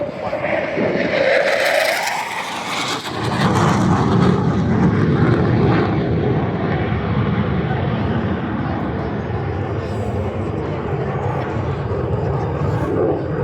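A loud fast jet aircraft roars past up close at an airshow in Midland, Texas, a brief rising whoosh giving way to a sustained rumbling drone that slowly fades.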